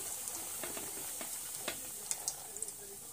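Puris frying in oil over a low flame, a soft steady sizzle with small crackles and pops, faint and close, no talking.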